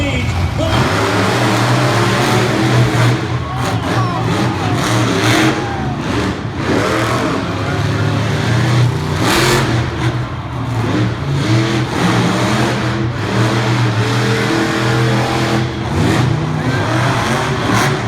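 Monster trucks race side by side at the Puyallup State Fair Monster Truck Mayhem, with loud, continuous engine roar and repeated revving swells filling the whole stretch, while an announcer talks over the noise.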